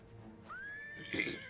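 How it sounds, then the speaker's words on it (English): Horses in the video game Eternal Sonata give a single rising, bright whinny that peaks and breaks into a rough neigh near the end, clear and fairly close over quiet game ambience. "Save the horses."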